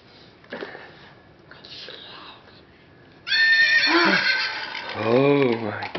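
A battery-powered toy horse, newly switched on, gives a loud synthetic whinny with a rising and falling warble that comes after quiet adult talk.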